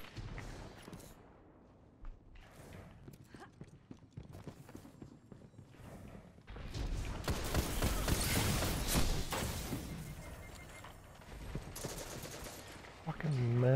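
Destiny 2 game gunfire from a fusion rifle erupts midway in loud, dense bursts that keep going for several seconds, with quieter game sounds before and a final sharp blast at the end.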